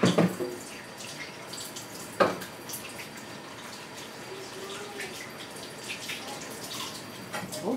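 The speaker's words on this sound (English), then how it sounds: "going to wash my hand here." Tap water runs steadily into a sink as hands are washed in a home kitchen, a close, even hiss with a couple of louder splashes.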